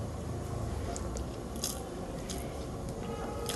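Someone eating rice by hand with lemon and taro leaves (kochu shak), soft close chewing and squishing with occasional sharper crunchy bites, quiet and without speech.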